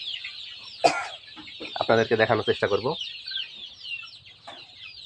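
A flock of 34-day-old desi (native Bangladeshi) chicks peeps and clucks steadily nearby as leafy greens are offered, with someone speaking briefly over the chatter midway.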